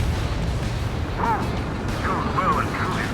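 Explosions boom during a bomb run in the Ace Combat 7 flight game, low rumbling blasts layered under a continuous roar with overlapping radio-style voices talking throughout.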